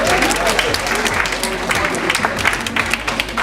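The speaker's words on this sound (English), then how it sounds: "Give yourselves a round of applause" A premiere-night crowd applauds itself, a loud, dense burst of many hands clapping with scattered cheers and voices mixed in throughout.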